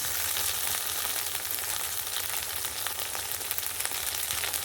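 Ginger garlic paste frying in a pan, with cumin paste about to go in for ghugni; a dense, even sizzle runs close and steady throughout with faint stirring.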